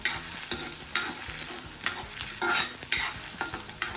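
Chopped onions sautéed in a pan for a mutton shahi korma, stirred steadily with repeated scraping strokes over a constant close sizzle, with no talking.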